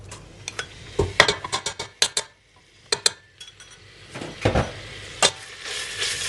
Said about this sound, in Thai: เดี๋ยวผัด พริกแกงนิดนึงใส่น้ำมัน